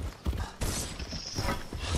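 A few quick hoof thuds from a mount in the video game Fortnite, close and moderately quiet, lasting about two seconds.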